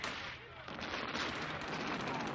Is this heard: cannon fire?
yes